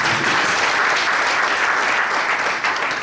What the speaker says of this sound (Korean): 목사님 박수 부탁드립니다.